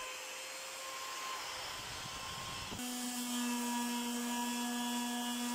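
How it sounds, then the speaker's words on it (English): Router rounding off the edges of a wooden tabernacle for a small boat build: a steady high-pitched motor whine that jumps to a louder, lower-pitched cutting tone halfway through, fairly quiet and alone. "I used a router to round off some of the edges."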